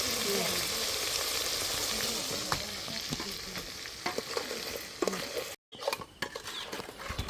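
Crab frying in oil in a pan outdoors by a stream, a steady loud sizzle with stirring clatter throughout and a brief dropout near the end.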